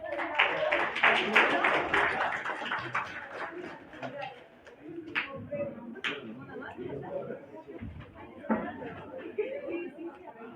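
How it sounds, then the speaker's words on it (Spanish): A classroom group applauds for a few seconds at the start, the clapping blending into lively chatter that carries on after it fades, with scattered voices close by. "un aplauso al grupo por eso"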